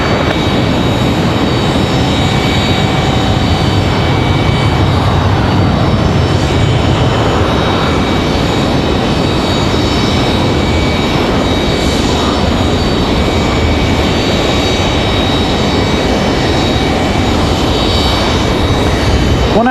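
A Southwest airliner takes off from runway 5 right at Raleigh-Durham, its engines producing a loud, unbroken roar that stays constant throughout, heard alone.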